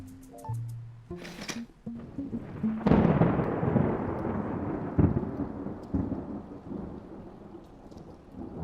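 A thunderstorm with steady rain rolls over a large apartment at night, with a loud crack of thunder followed by long rumbling and continuous rainfall, plus a few brief tones at the start and no speech.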